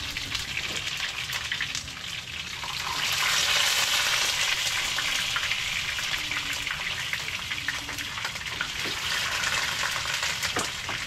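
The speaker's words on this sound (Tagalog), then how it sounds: "Umpisa na natin mga kabugto magprito" Food sizzles and crackles steadily in a hot pan, a dense spattering hiss that swells slightly midway, with no talking.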